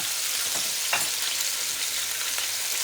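Chicken pieces sizzle and fry steadily in a hot pan as they brown for a curry, a dense continuous hiss with a couple of brief louder crackles, no talking.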